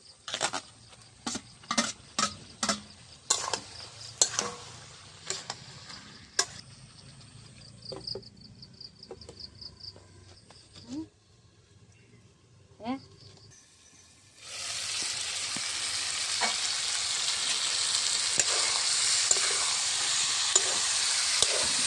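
Goat meat curry sizzles and fries in a home kitchen pan, with scattered clatters and stirring knocks as fried potatoes go in, then a loud, steady sizzle surges up and holds to the end.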